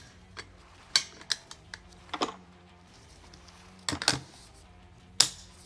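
Metallic clicks and clacks of an AR-15 bolt carrier and charging handle being slid into the upper receiver together, a handful of sharp, close taps spread irregularly over a quiet room with no talking.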